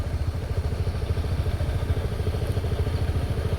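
A tractor engine chugs through deep mud on a rainy village track, a close, steady rhythmic thumping throb with clattering, heard alone without talk.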